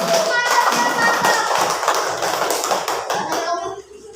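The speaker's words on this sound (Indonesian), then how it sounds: "Tepuk tangan dulu." A group of students in a classroom clap their hands together in a quick burst of dense, close applause with some children's voices mixed in, fading out toward the end.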